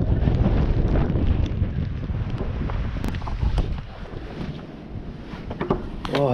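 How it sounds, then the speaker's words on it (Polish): Strong wind buffets the microphone outdoors on a farm, producing loud rumbling gusts that rise and fall continuously, with brief faint voices near the end. "Ale wieje."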